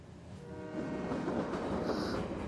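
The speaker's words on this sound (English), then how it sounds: "It's really the train that's moving, Caillou." A steady low rumble of a train rolling along, with a faint metallic whine rising near the end.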